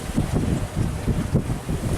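Steady wind rushes past a sailboat running downwind under a single-reefed mainsail in about 15 knots of breeze, a low rumbling buffet with gusty swells and water noise, close and continuous with no talk.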